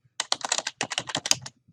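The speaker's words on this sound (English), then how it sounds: "I can't type please" Someone types rapidly on a computer keyboard, a close, crisp burst of about a dozen clicking keystrokes with a brief pause in the middle, heard alone.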